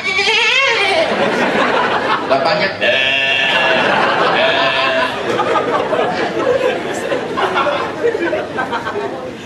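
A voice imitates a goat's wavering bleat, loud and close, with other voices chattering and laughing around it.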